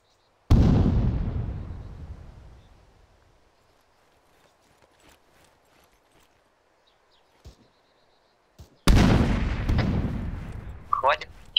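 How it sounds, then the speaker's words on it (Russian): Two loud grenade blasts in the Arma 3 shooter game, each a sharp boom decaying into a long rumbling tail, separated by quiet with faint distant pops and clicks in between. "Хватит кидать гранаты."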